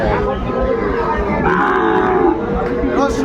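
Cattle, including Sahiwal bulls and calves, low loudly and close by at a livestock market, one long drawn-out moo after another, over a murmur of a busy crowd.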